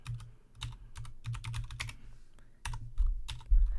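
Quick keystrokes on a computer keyboard as a command is typed at a terminal, clicking in irregular bursts with short gaps, close and clear, ending with heavier key presses.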